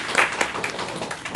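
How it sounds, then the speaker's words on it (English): Audience applause in a convention panel room about Catholicism in anime, a dense steady patter of clapping with no voices on top, lasting only a moment at moderate volume. "Yay! Round of applause."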